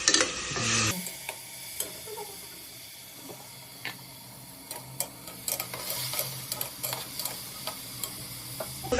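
Mutton curry for Telangana-style cooking frying and being stirred in a pan, a steady sizzle broken by frequent scraping and clinking spoon strokes, close and moderately loud with no talking.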